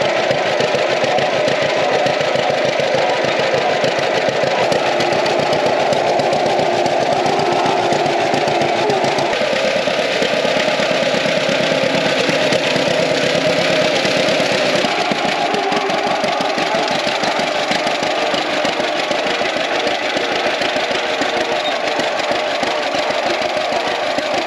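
Old John Deere tractor engine, including a 1938 Model A, running steadily while mowing, a loud continuous mechanical drone with a slight shift in tone partway through and no talking.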